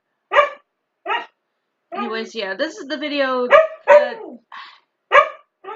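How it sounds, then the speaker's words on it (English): A dog barks in short sharp bursts indoors, close and loud, with one longer whining, yelping stretch in the middle, while someone talks between the barks. "just ignore the dog, guys"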